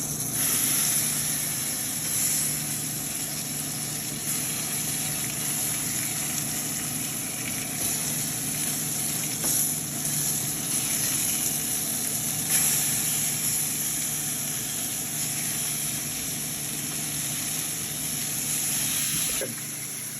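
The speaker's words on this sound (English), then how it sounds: "Hear that sizzle? That's what you want to hear, the nice sizzle." Steady, loud sizzling of chicken frying in a hot pan for chicken cacciatore, a constant crackling hiss that runs unbroken with no voices.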